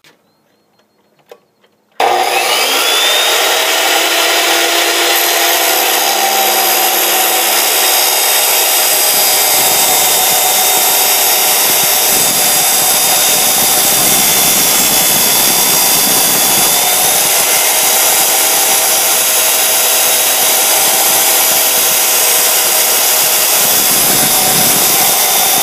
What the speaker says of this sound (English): I'm going to chop this exhaust.